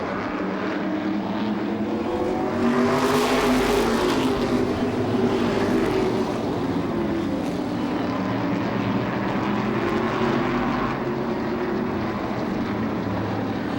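Modified race cars run a B-main race at Seekonk Speedway, making a continuous roar of several engines. The sound swells twice as the pack passes nearer, then settles back to a steady drone.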